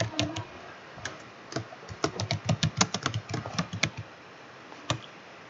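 Rapid keystrokes on a computer keyboard as a caption is typed, an irregular burst of light clicks clustering into a quick run in the middle, close and fairly quiet, ending with a single isolated tap.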